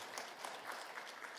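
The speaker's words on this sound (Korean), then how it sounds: "박수로 크게 축하해 주십시오" Congregation applauding in a church Sunday service after a certificate and gift presentation, a brief, fairly faint wash of many hands clapping evenly with no voices over it.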